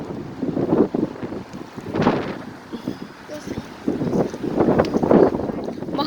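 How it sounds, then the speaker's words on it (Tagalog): Gusty wind buffets the microphone in uneven surges, with voices and rustling activity mixed in underneath. "Mahangin."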